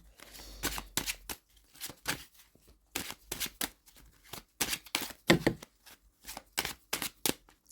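Tarot cards being shuffled by hand, a series of quick riffling bursts repeated in an irregular rhythm, close and moderately loud with short pauses between, no talking.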